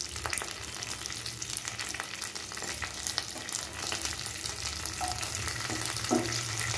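Dried red chillies, cumin seeds and curry leaves fry in hot oil in a pan, giving a steady, close crackling sizzle with scattered pops and light stirring scrapes throughout.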